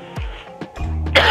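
A person with a cold clears their throat and coughs in a few short, close bursts, rough and harsh, ending in a sharper louder cough, with no speech.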